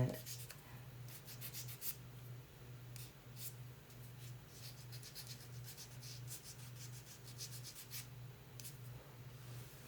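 Soft, quick rubbing strokes of sandpaper on a small piece of wood, light and rapid, heard close but faint over a low steady hum.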